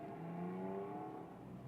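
A 2003 Porsche Carrera 4 engine hums and rises briefly in pitch as it passes, faint and steady.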